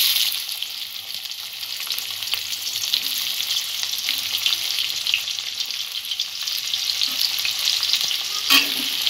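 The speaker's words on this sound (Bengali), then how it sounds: "পেঁয়াজটা আগে হালকা করে একটু ভেজে নেব।" Onion, ginger and tomato go into hot oil and fry with a steady, bright sizzle and crackle. A few louder spits and stirring scrapes come through close by, and no one speaks.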